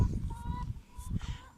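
Hens and two young roosters cluck and call close by in a backyard flock, a short burst of honking, squawking bird voices.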